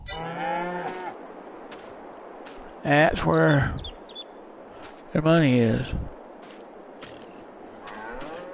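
Beef cattle on a Southeast US farm let out several loud, drawn-out moos, one early and two longer calls a couple of seconds apart, over open outdoor ambience with someone talking briefly.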